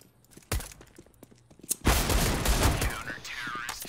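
Gunfire in Counter-Strike, a competitive online shooter: one sharp shot, a few scattered pops, then a loud, sustained burst of rapid fire that keeps ringing close and dense to the end.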